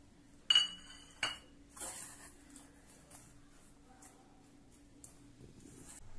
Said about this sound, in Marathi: बारीक चिरलेला कांदा आहे आणि एक वाटी कोथिंबीर हे घालून आता मी छान ढवळून घेईन याला